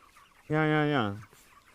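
A single drawn-out cluck from an English broiler chicken in a roller pen, close and clear, rising then trailing off, against faint background noise.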